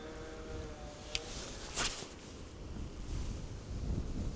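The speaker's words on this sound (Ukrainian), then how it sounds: "Вітер трошки дує" Wind buffets the microphone steadily by the water while fishing, a rough rushing noise with a couple of brief sharper gusts and no voices.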